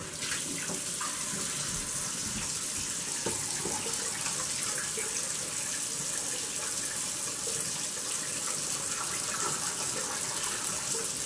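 Water runs steadily from a faucet, a constant close splashing hiss that holds unchanged throughout with no voices.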